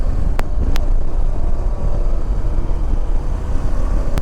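A Yezdi Adventure motorcycle ridden along a plantation road between Athirappilly and Malayattoor gives a steady, close engine rumble under heavy wind buffeting, with two brief clicks early on.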